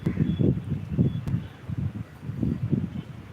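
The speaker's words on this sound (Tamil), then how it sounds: "காற்று பயங்கரமாக வீசுது" Strong wind gusts through the leaves of a rooftop garden, rustling and buffeting in loud, repeated low surges about every half second, with no talking.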